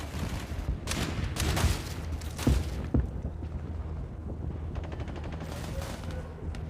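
Rapid gunfire bursts in the Dogs of War video game, several sharp shots close together in the first three seconds, then a steady rattling backdrop of distant firing.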